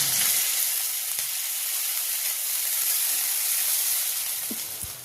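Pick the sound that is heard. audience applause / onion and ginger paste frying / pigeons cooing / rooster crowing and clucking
onion and ginger paste frying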